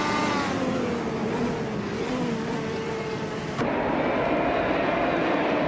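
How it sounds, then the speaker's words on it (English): Honda Indy car engine in a racing video game, a steady high-pitched drone with shifting harmonic whine that holds throughout and steps up slightly in tone near the end, with no talk over it. "Bot Iron Crystal Wooden Cross is driving a Honda Indy car"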